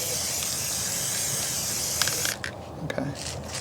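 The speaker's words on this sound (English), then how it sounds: "So he sprays, I turn." Spray paint hissing steadily onto a homemade Christmas luminary as it is turned, loud and close, then breaking off into short bursts with faint clicks near the end.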